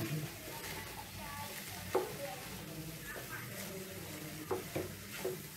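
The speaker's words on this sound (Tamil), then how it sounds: "நல்லா எல்லா இடம் படுற மாதிரி கிண்டிடணும்." Vegetable fried rice sizzles steadily in a pan while being stirred, with a few scraping clinks of the spoon against the metal and faint background voices.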